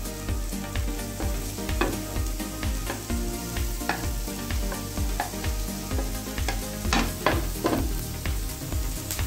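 Chopped tomatoes, capsicum and green chillies sizzle and fry in a pan while being stirred, a steady close crackle with scraping stirring strokes throughout and no talk.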